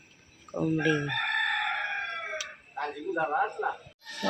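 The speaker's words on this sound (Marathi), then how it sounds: "कोंबडी" A chicken crows loudly and then clucks a few times nearby, with a brief voice at the end.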